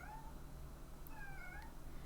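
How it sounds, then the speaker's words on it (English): A pet cat cries out in a few drawn-out meows, thin and fairly quiet against a low steady background hum, the second call longer and wavering, with no talking. "Can you hear my cat crying?"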